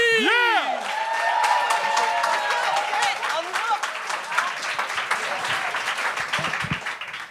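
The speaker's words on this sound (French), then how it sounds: "Un tonnerre d'applaudissements pour le premier" Comedy show audience applauding and cheering for a comedian, with whoops and a shouting voice at the start over thick, sustained clapping that gradually thins toward the end.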